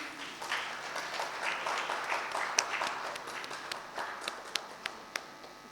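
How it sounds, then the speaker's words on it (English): Modest applause from a small audience at a book launch and fireside chat, with loose scattered clapping and a few sharper individual claps toward the end, fairly quiet and without speech. "Applause, please."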